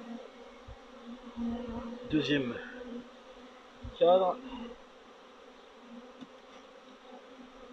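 A low, steady buzz of many honeybees around a shaken hive fills the background, with a couple of brief spoken phrases over it.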